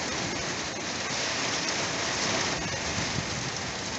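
Heavy rain falls steadily during a storm, a dense, loud, unbroken hiss of drops on surfaces, close and constant, with no voices.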